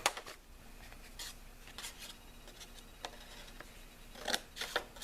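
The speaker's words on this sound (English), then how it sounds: "I take my scissors, just trim it from the back." Scissors trimming the back of a brass-colored necklace display board, heard as a few soft snips and crisp clustered cuts near the end, close and quiet with no talking.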